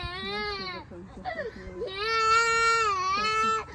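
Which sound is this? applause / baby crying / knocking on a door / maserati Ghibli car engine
baby crying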